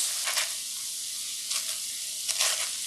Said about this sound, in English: we're gonna add our seasonings like that, and we're gonna mix this up really good